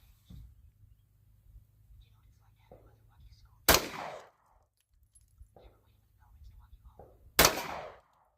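Two loud, sharp shots from a 9mm Tisas pistol fired outdoors, a few seconds apart, each with a short ringing decay, with quiet talk and low engine-like rumble between them.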